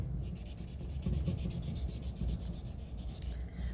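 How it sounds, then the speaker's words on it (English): A blending stump is rubbed back and forth to clean off excess charcoal powder, giving a soft, close, rhythmic scratchy scraping that continues steadily with no talking. "I'm kind of rubbing it on this side just to get some of the excess powder off."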